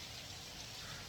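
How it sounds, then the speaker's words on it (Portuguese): Steady rain falls throughout, a continuous broadband hiss of drops pattering on surfaces, even and close with no other sounds. "Tá chovendo aqui."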